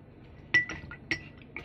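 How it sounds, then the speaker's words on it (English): A spoon clinks against the side of a glass of turmeric milkshake while stirring, giving three or four sharp, bright taps at irregular intervals over a quiet background. "Okay, now I'll stir it"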